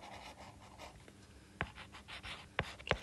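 Math notes are being written by hand, with a soft, continuous scratching of pen on paper broken by a few sharper taps, faint and close.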